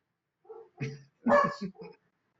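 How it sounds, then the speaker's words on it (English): Several dogs barking close by in a quick cluster of four or five sharp barks and yips, fairly loud against silence. "All three of my damn dogs."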